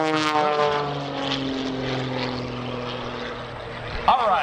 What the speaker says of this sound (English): Just walks the airplane through those rolls at the top of that